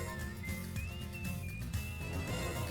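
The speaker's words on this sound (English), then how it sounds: "they added whistling to this track" A whistled melody line carries over the Wild Arms 5 battle music track. Thin sustained notes glide and hold above a steady, full orchestral bed for a few seconds, with no talk.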